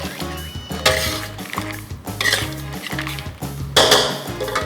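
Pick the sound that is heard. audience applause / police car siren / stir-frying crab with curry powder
stir-frying crab with curry powder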